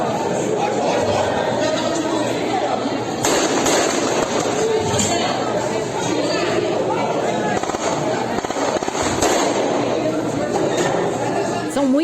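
Repeated gunfire bursts, apparently from a machine gun, crackle at a distance during a shootout in Paraisópolis, several sharp volleys spread over the stretch beneath steady excited talk and outdoor noise.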